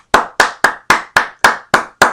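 Hands clap eight times in a quick, steady rhythm, each clap sharp, loud and close with a short decay and nothing else heard between them.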